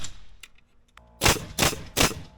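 A nail gun drives nails into wood in an ADU garage conversion, firing three sharp, loud pops about a third of a second apart, preceded by a few fainter clicks and handling noises.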